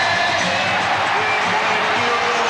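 A basketball arena crowd at the 1992 Bulls vs Knicks Eastern Conference Finals Game 7 keeps up a steady, loud roar of cheering. Faint whoops rise above the unbroken wall of crowd noise.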